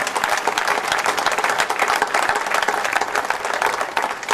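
Dense, steady applause from the audience at a Kapele men's choir summer concert, welcoming a new member; many hands clapping close and loud throughout with no pause.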